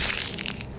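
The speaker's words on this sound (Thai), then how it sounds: "เสียงแตกร้าวสะท้อนออกเป็นระลอกคลื่น" A sharp crunching crack followed by brittle splintering rasps, loud and close, lasting under a second.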